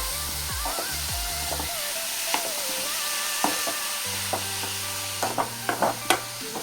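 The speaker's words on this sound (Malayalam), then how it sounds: "ഇനി നമുക്ക് നമ്മളുടെ എടുത്തു വച്ചിരിക്കുന്ന കപ്പളങ്ങ ഇടാവേ" Raw papaya for a Kerala-style thoran drops into a hot pan and fries, with steady sizzling and a few scraping stirs and clinks of the spoon toward the end, fairly close and with no talk.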